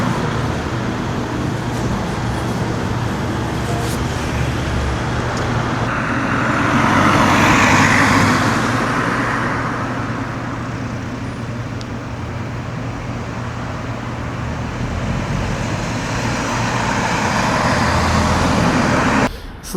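A car cruising on an Austrian autobahn toward Klagenfurt with hitchhikers aboard, a loud, steady roar of road and wind noise that swells briefly midway and continues evenly throughout without talk.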